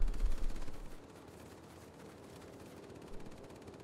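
Rear gunners fire machine guns in the aircraft combat video game Warplanes, with dense, loud rattling bursts that are strongest at the start and then continue as a steady, noisy clatter.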